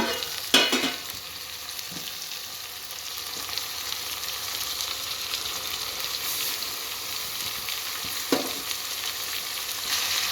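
Soaked peas are stirred into a sizzling brinjal mixture in a pan, with a steady frying hiss throughout and a few sharp scrapes and clacks of the spoon against the pan.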